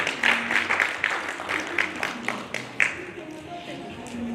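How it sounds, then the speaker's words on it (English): Audience applause at an anniversary event for board members being introduced: scattered, fairly light clapping with a few sharp individual claps, a background voice and faint tones underneath, fading out near the end. "Please clap for them."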